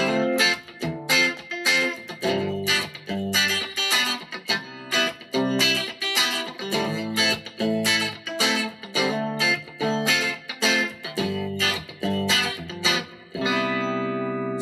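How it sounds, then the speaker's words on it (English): An electric guitar plays rhythmic strummed chords and picked notes drenched in spring reverb with no delay, a steady chopping pattern of bright, splashy attacks ending on a sustained ringing chord. "Turn the delay off. Let's put on some spring reverb."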